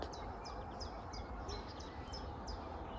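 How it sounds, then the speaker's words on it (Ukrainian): Small birds chirp and twitter repeatedly in the distance, with short high calls recurring every half second or so over steady outdoor background noise, on an evening or morning. "чуєте, як пташки співають кожен так вечір, ранок взагалі. Такий пташиний прям спів"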